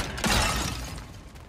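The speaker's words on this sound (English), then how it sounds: "back to smashing through things for fun and profit" Objects shatter and break in God of War Ragnarok, a loud crash with crumbling debris that fades into a lingering rattling tail, with no voices.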